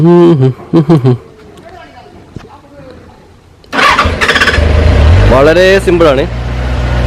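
A Benelli 600GT motorcycle on its stock exhaust fires up after a short spoken remark, then settles into a loud, close, steady engine rumble that swells toward the end.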